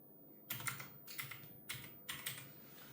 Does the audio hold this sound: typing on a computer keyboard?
yes